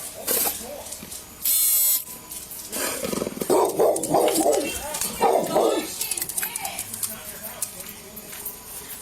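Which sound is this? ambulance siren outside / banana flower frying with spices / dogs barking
dogs barking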